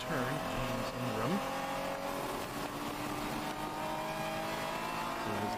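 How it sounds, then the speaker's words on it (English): Race car in a Spec Z field coming through the final turn, its engine a steady droning roar with pitch sweeps under continuous commentary. "we have the race leader coming through the final turn, James Ingram."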